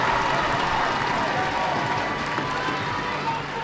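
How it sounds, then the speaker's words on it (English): A steady wash of crowd noise and scattered clapping fills an indoor netball court during a King's Worcester versus RGS Worcester schools match, continuous and fairly loud throughout with no single standout sound. "you can see Everett Morris applauding that ball into her for the shot"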